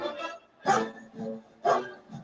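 Several dogs (Gracie, Cedar and Wyatt) barking in turn, sharp close barks in a loose rhythm with about five distinct barks and short gaps of silence between them.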